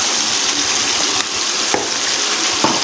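Broadband sizzling and scraping as chicken korma with red chilli and turmeric is stirred in a frying pan, a steady close hiss with a few sharp clicks of the spoon against the pan.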